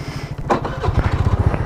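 A small scooter engine sputters and catches, then settles into a fast, steady putter close by, with a brief mechanical whir at the start, on a dirt track.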